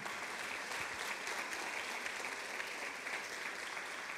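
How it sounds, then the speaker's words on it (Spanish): Church congregation applauding during a worship service, a steady dense wash of many hands clapping at moderate distance, continuous and even for the whole stretch with no voices over it. "Vamos a darle el mejor aplauso."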